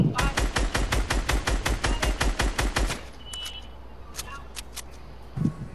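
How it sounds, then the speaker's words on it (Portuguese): Rapid automatic gunfire in Fortnite, about a dozen loud, evenly spaced shots in a quick burst, followed by a few fainter distant shots and quieter game sounds. "os caras lá do outro lado do mapa me atirando"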